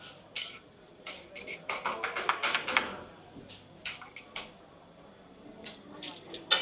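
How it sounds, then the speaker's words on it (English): A spoon stirs a Cafe Nero spiced pecan latte in a cup, giving close, bright metallic clinks and scrapes in irregular bursts, busiest in the middle and again near the end. "Give it a good stir."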